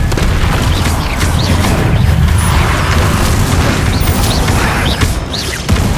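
Bombarda blasting spells going off in Hogwarts Legacy combat, a steady roar of booming impacts and crashes layered with other spell effects, dense and loud throughout without a clear break.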